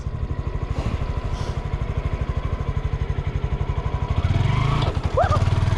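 A motorcycle engine putters in a steady, close, rhythmic idle. Near the end it lurches and thumps as the clutch is released too quickly, and a voice exclaims over it.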